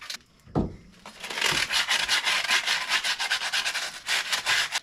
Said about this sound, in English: I want to clean out that hole with some sandpaper